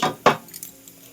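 Chana dal being stirred as it fries in a pan, a couple of sharp metallic scrapes and clinks of a spoon up close, followed by faint light rattling.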